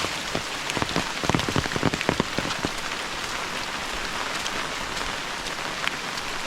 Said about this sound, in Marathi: तर मस्तपैकी पाऊस चालू असं पाऊस चालू राहिलो ना